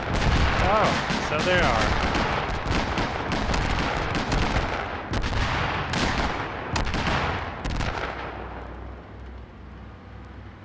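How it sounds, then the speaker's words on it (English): Rocket explosions and gunfire in the ArmA 3 combat game, a dense stream of sharp blasts and bursts, loud and continuous, fading toward the end, with players talking over the chaos. "More rockets."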